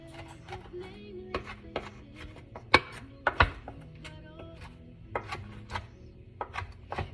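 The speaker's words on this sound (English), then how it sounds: "I also cut up some olives. Just cut it up in pieces, without the pits" Olives, pits removed, being chopped into pieces on a board for pancetta focaccia: a run of sharp knife taps in an uneven rhythm, some louder strikes, close and alone over low background hum.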